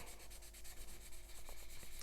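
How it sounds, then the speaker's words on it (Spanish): Sanding across the painted plastic shell of a Sony PlayStation produces a soft, steady rasping rub in quick repeated strokes, close and quiet with no talking. "Vamos lijando"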